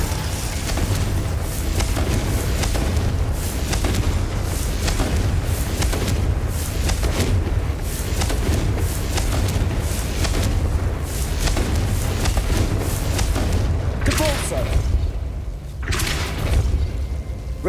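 Fire spells cast in the video game Hogwarts Legacy set off repeated booming explosions, one after another in a dense, loud rumbling barrage lasting throughout.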